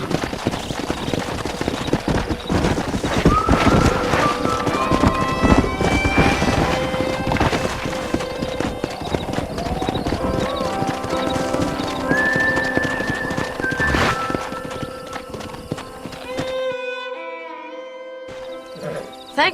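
Horses gallop in the Western video game Red Dead Redemption, with rapid, continuous clip-clop hoofbeats and occasional whinnies, loud and close, before the hooves fade out near the end.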